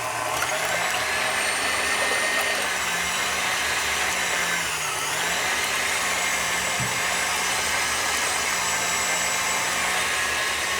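An electric mixer beats egg whites with sugar in a steady, loud motor whine that holds on without pause, its pitch dipping slightly midway.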